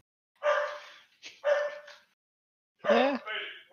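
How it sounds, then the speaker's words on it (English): A pet dog barks in three separate bursts, the first two close together and the third after a short pause, loud and near in an otherwise silent room. "do you hear my dog barking?"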